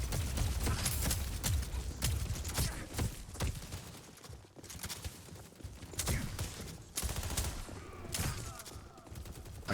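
Enemy gunfire in Deadlock rattles in repeated rapid volleys, a steady stream of shots broken by short pauses, fairly quiet overall and without speech.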